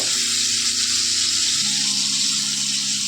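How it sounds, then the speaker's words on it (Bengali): Shrimp frying in hot oil, a steady close sizzle and hiss that runs unbroken with no voices over it. "চিংড়ি মাছ ভাজতে করতে দেখবে বেশি টাইম লাগে না"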